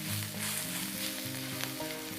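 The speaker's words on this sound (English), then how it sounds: "We're just going to stir" Ingredients stirred in a hot pan with a steady close sizzle and crackle, part of a herby butter bean dish with bay leaves and paprika; no voices.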